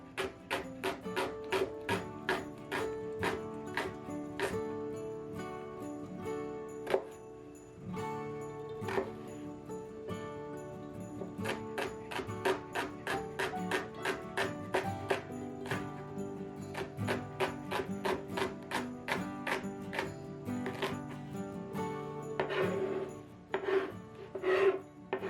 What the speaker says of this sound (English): I'm going to finely chop these for the sauce